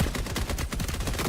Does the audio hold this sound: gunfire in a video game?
yes